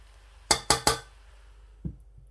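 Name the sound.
utensils clinking while dishing out cooked sweet rice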